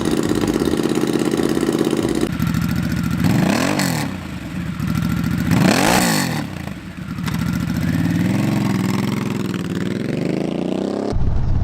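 Harley-Davidson Nightster motorcycle engine running loud and close, a steady idle rumble broken by two rising-and-falling revs before settling, with no talk over it.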